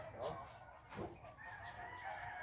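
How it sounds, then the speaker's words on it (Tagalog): A rooster crows once partway through, fairly close, at a chicken farm over a steady background hum and faint farmyard noise. "Napakagandang manok ito."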